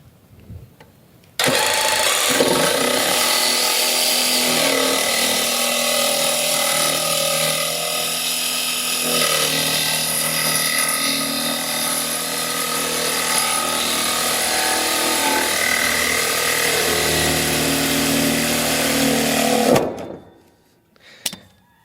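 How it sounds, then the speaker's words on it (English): A jigsaw cuts plastic pipe for a raised garden build, starting abruptly and running as a loud, close, continuous buzzing whine for about eighteen seconds before winding down. "I have a jigsaw, so that's what we're going to use"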